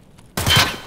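A burst of video game gunfire, loud and dense, cuts in suddenly and rattles for about half a second before a final shot.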